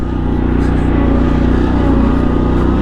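A ZT200 zero-turn mower drives along on a flat tire, its engine droning loud and steady with a deep, even rumble throughout.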